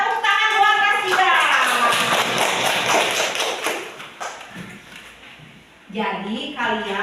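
A class of children claps for a classmate, a dense burst of hand claps lasting several seconds amid children's voices, then fading as talking resumes.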